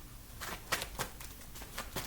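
Reading cards are shuffled in a quiet room, a series of soft papery riffles and flicks in a loose rhythm, fairly faint and close, with no talk.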